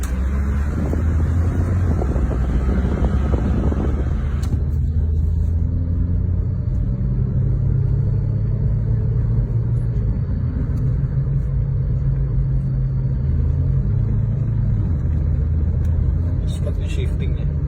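A car's engine revs up hard and shifts gears during a rough test drive, a loud steady rumble with wind buffeting the microphone throughout.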